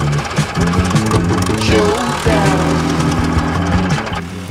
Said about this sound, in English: The four-cylinder diesel engine with enough power to put hairs on your chest